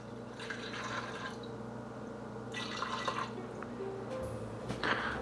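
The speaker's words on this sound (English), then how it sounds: "So that was about 3 cups of water that I put in." Water pours and trickles in short bursts with pauses between them, splashing into an Instant Pot over noodles, with a low steady hum underneath.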